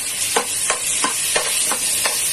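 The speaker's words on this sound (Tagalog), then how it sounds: "Haluin po natin ng mabuti hanggang sa lumambot o malusaw ang ating kamatis" Tomatoes frying in a pan for ginisang monggo, stirred with a utensil in six or seven evenly spaced scrapes over a steady close sizzle.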